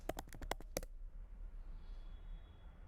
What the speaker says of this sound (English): let me just type in hello